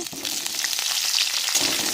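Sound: vegetables frying in white oil in a wok

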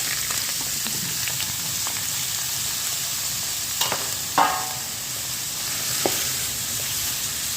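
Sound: frying spices and green chili in oil

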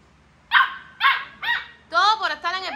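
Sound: dog barking

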